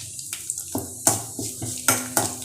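Curry leaves dropped into hot oil with spluttering mustard seeds in a kadai, giving sharp, crackling bursts and metal clinks at an irregular pace, close and fairly loud.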